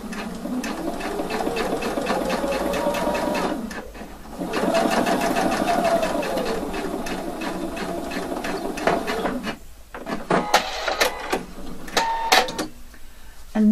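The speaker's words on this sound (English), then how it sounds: "I just want to have a stitching that's not visible, so I'm going to stitch it" A sewing machine runs in steady, fast bursts while stitching a double welt pocket in the shadow of the seam, pausing briefly partway and then stopping and starting in short runs toward the end; close and loud, with no talk over it.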